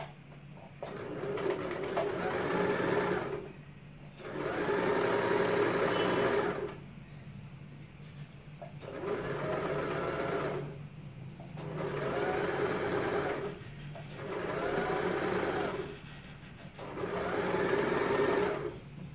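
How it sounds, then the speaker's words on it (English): A sewing machine slowly stitches a sleeve onto a crop top bodice, running in six steady bursts of a few seconds each, separated by short pauses, with a low motor hum underneath. "I start sewing from one side very slowly and without any stretch in the fabric."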